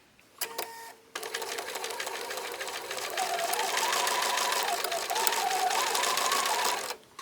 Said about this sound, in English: you're going to stitch at 1/4 inch from the edge